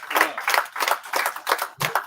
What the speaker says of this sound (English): Round of applause for our business manager